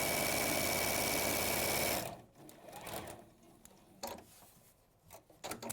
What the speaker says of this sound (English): And then I'm sewing all the way round.